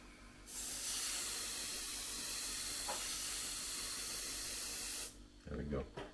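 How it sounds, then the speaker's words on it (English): A steady airbrush hiss lays a light dusting of paint on a HobbyBoss Nagmachon model kit, the continuous close spray running for about five seconds before cutting off and leaving brief low handling noise. "Pull the airbrush back so you're not laying down loads of paint, just to tone it back"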